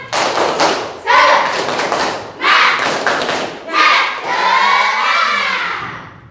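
Schoolchildren in a classroom doing a rhythmic spirit clap: loud bursts of group clapping and thumping in a patterned beat, broken by shouted chants from many young voices, ending in a long cheer.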